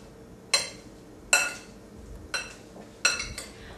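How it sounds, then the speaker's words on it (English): Vegetables are tossed with salt and a pinch of pepper in a kitchen bowl, giving four separate sharp clinking clatters, clear and close, with quiet pauses between and no talk. "Going to combine those very well. Make sure the salt coats all of my veggies."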